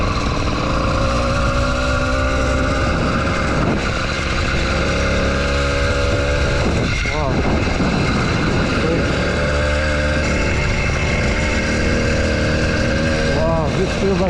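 An 80cc engine mounted on a 29-inch mountain bike being ridden, droning loudly and steadily throughout with revs that rise and fall in pitch, over continuous wind rush.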